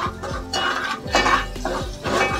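A utensil scrapes and clinks around a metal pan in repeated strokes, stirring a tempering for mango raita, steady and close, with no voices.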